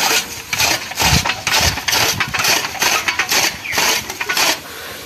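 An engine-driven fodder chopper (toka) cutting jowar: a loud, close engine drone broken by repeated rhythmic chopping and crunching bursts, with no talk.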